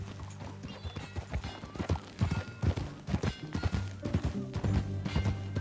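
Horse hooves clip-clop at a riding pace in Red Dead Redemption 2, a steady rhythmic clatter over a low continuous rumble of game ambience and music, with a brief neigh or snort mixed in.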